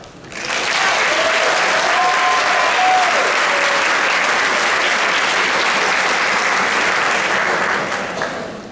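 A school district convocation audience applauds to welcome a speaker, with steady, dense clapping from a large crowd that builds quickly, holds for several seconds, then tapers off.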